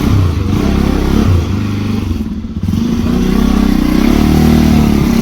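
A motorcycle on a ride from Balasun to Kurseong, its engine running loud and close with a throaty idle, a brief dip, then a steadier revving drone that builds and holds.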